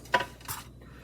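Utensil clinks against a bowl while peanut butter cookie batter is whisked: two quick scraping, clattering strokes close by, then a faint quiet tail.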